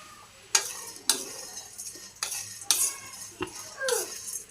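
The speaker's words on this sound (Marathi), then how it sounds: "कोणताही मसाला भाजताना कोरडाच भाजून घ्यायचा" Whole spices, including cloves, dry-roasting in a pan without oil, stirred with a metal spoon: a quick series of sharp scraping strokes over a faint crackle, close and clear with no voices.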